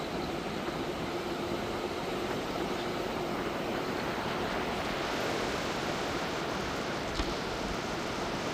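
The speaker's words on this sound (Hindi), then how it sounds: "ये टॉन्स नदी बह रही है" Steady broadband rush of the swollen Tons river flowing, loud and continuous throughout with no pauses.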